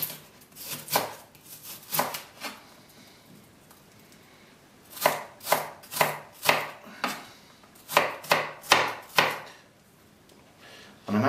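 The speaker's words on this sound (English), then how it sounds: "I'm just chopping this fine onion now." A knife chops an onion finely on a board, the quick sharp taps falling in short bursts separated by brief pauses, close and clear with no voices.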